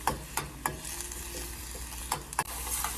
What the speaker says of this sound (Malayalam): അതിനുശേഷം നന്നായിട്ട് ഇളക്കി കൊടുക്കാം